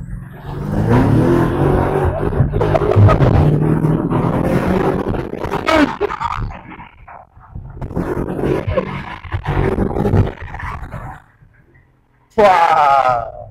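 A BMW M5 Competition roars as it accelerates hard, a loud gritty engine drone rising and falling through gears, fading briefly, then a sharp rev bursting back at the end.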